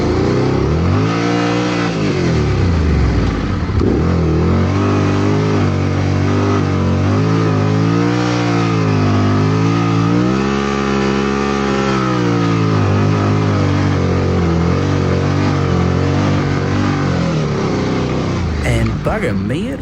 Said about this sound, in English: Who would have thought just winding on the throttle in third gear would manage to generate so much traction?